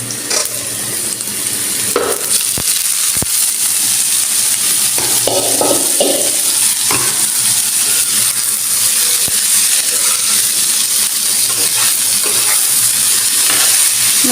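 Chopped onion and garlic sizzle loudly in hot oil as vegetables and greens are added and stirred, giving a continuous dense frying hiss with intermittent scraping and clattering of the spatula against the pan.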